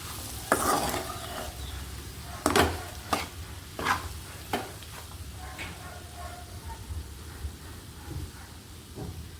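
Flat beans (chikkudukaya) fried with fenugreek powder are stirred in a pan, a spoon scraping in a few distinct strokes over a soft steady sizzle, close and moderately loud.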